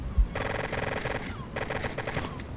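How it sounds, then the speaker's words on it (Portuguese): Rapid bursts of automatic gunfire from the video game Total Overdose, several fast repeated volleys with short gaps between them, fairly quiet and without talk. "Nossa, vários tiros."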